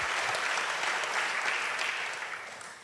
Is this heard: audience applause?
yes